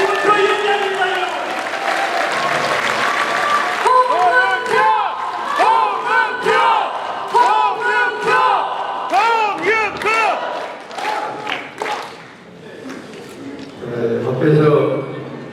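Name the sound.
applause and cheering welcoming the party chairman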